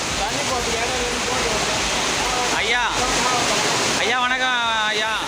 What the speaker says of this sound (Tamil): சாலையில் மழைநீர் வெள்ளம் போல் பெருக்கெடுத்து ஓடியதால்